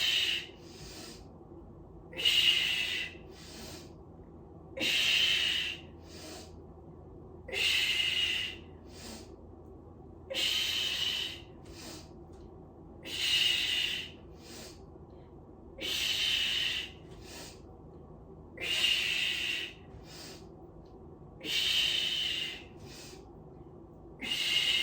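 Rhythmic breathing during an at-home core workout, each long hissing breath lasting about two seconds and repeating steadily about a dozen times, fairly close and alone over a faint low background.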